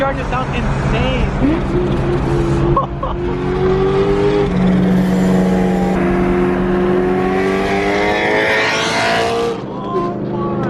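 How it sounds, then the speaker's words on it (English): A supercharged car revs hard at a crowded car meet, its loud sustained engine note climbing and falling with a whining harmonic sweep, while voices and crowd noise carry underneath throughout. "Supercharger sounds insane."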